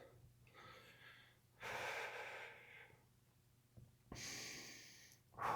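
Slow, deep breaths in a stretching class: two long, audible inhale-exhale bursts separated by quiet pauses, close and fairly soft, with a third breath starting at the end.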